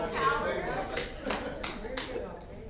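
A few scattered handclaps from an audience ring out at a county board of supervisors meeting, sparse and irregular beneath an official speaking over a microphone.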